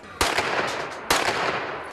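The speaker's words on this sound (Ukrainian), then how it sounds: "стріляють із рушниць та пістолетів" Gunfire from shotguns and pistols during street clashes at a protest, with two sharp, loud shots about a second apart, each followed by a noisy, reverberant tail.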